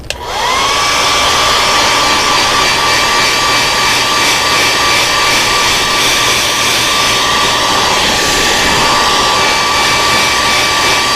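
A heat gun blows continuously and loudly up close while heat-setting layers of spray paint on a fishing lure, starting with a quick spin-up into a steady whine.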